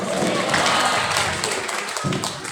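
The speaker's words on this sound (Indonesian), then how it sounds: "Tepuk tangan buat SMK Pelita Nusantara" A crowd at a school Maulid commemoration gives a brief burst of applause for SMK Pelita Nusantara. The dense, hissing clapping fills the moment evenly and is fairly loud.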